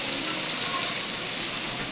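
Heavy village rain drums on surfaces in a thick, continuous roar, steady and close throughout, with faint scattered patters and no speech.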